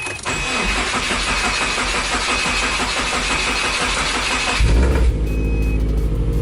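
A manual-transmission car's engine cranks for several seconds in an even, rhythmic churn, then catches with a louder burst and settles into a steady idle.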